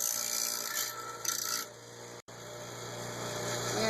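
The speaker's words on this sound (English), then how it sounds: "So what I'm going to do is just do a small little modification with my grinder." A grinder trims the plastic CV boot guard on a Yamaha Grizzly 700, with a rough rasping, grinding sound rising and falling over steady motor whine, then a brief cut-off before the hum continues.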